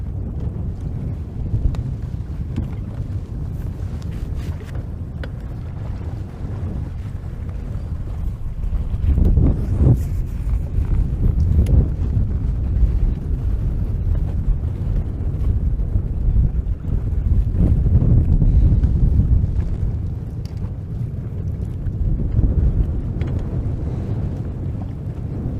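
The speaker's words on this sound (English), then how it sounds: "Just had a little wind. Blow my rods off the deck." Wind gusting across a bass-fishing boat deck on Saginaw Bay, Michigan, a loud low roar of buffeting against the microphone that swells and fades in waves, with faint water movement beneath.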